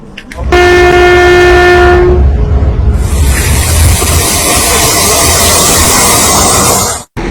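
A modern Polish-built passenger train in Ghana sounds a loud, sustained horn for about two seconds, followed by the heavy roar and rumble of the train passing close by without any talk.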